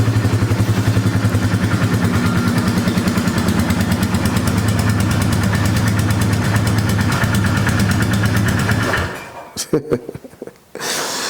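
A Polaris 325 Magnum ATV engine runs up close in a rough, rapid chugging idle that holds loud and steady, then cuts out near the end, leaving a few knocks and scuffs.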